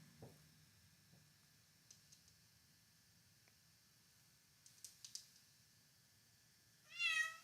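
A cat gives one short meow near the end, close and fairly clear, after quiet room noise with a few faint soft taps.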